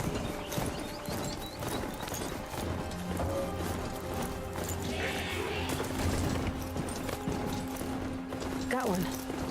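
Horse hooves clip-clop in the Horizon Zero Dawn video game, a steady walking rhythm set among game effects and background sounds while a person talks over it.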